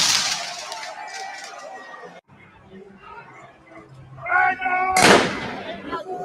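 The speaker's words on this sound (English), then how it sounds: "Fireworks." Fireworks go off outdoors during a tense street confrontation. One sharp, loud bang bursts out near the end over shouting and talking voices.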